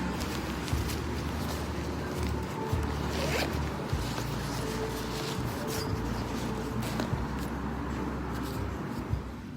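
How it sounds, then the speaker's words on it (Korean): A zipper rasps along a padded dog jacket in a few quick pulls, with light rustling and handling noise throughout. "안쪽에 지퍼를 채울 때 댕댕이들 털 끼지 않게 이렇게 립도 들어있습니다"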